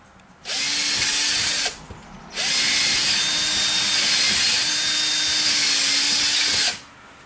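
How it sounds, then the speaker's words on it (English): A power drill bores a hole through sheetrock beside a wall stud: two loud, steady bursts of whining motor noise, a short one and then a longer one of about four seconds, close up, with no talking. "I can drill a hole to make sure I'm off the stud."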